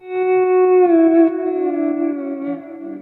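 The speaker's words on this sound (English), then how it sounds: "Now we have really good reverb." A lap steel guitar in open D tuning holds a long, sliding note that gently bends downward, its sustained tone swimming in a lush reverb wash from an amp's vibrato channel.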